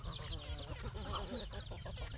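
Chickens on a rural Thai farm cluck steadily while pecking at rice, a continuous busy murmur of several birds close by with no talk.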